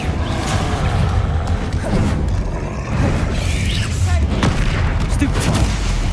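Blasting spell from the video game Hogwarts Legacy erupts in dense, rumbling booms and crackling impacts amid continuous combat noise, with shouted spell names over the top.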